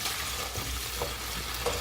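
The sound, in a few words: cauliflower rice frying in vegetable oil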